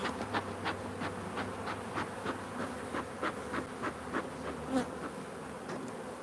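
Honey bees buzz steadily and densely at close range during a hive inspection in a bee yard, with faint rhythmic knocking or tapping pulses running under the continuous drone.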